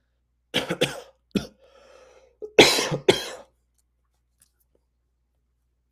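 Several harsh coughs in quick succession, then a brief pause with faint throat noise before two louder, close coughs.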